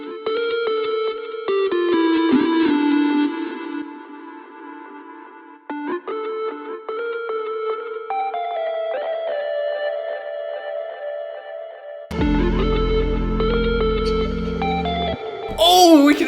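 Synth-heavy electronic music with an echo effect on a return channel in Ableton, with repeating tails smearing the chords; a dense, loud section enters near the end. No one talks.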